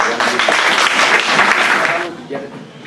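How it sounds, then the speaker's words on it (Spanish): An audience at a university humanities forum breaks into applause, a loud, dense wash of clapping that holds for about two seconds and then thins out. "Un aplauso para"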